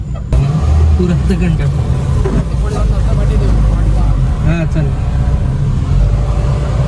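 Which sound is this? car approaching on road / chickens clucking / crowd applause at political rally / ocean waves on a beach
car approaching on road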